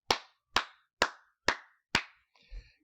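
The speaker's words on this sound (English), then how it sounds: "Hand clap for you, sir." Five sharp, evenly spaced hand claps, close and crisp, followed by a short low thud at the end.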